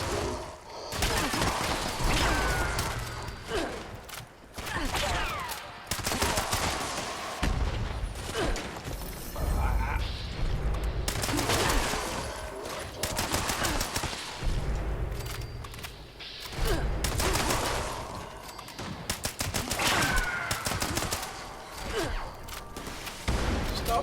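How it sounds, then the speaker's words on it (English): Continuous gunfire and booming explosions in the video game Fallout 76, dense and loud throughout with mechanical clanks and whooshes, and occasional speech under the action. "Stop shooting me!"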